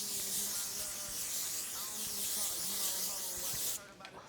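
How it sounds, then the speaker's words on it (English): L'Oreal setting spray hisses from a nozzle in one long continuous mist lasting nearly four seconds, close and bright, then cuts off sharply, with faint voices murmuring underneath. "L'Oreal setting spray."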